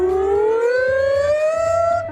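A person vocally imitating a siren, producing a loud, close rising wail that climbs steadily in pitch with a buzzy, harmonic-rich tone.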